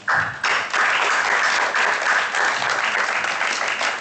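Audience applause welcoming a doctor speaker at a talk on vegan children and sport, a dense, sustained roar of many hands clapping steadily throughout at close range.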